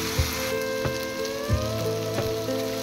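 Fried potatoes being sautéed in a pan, a continuous sizzle with several soft knocks of a spoon stirring at a fairly regular pace, alongside a steady hum in the background.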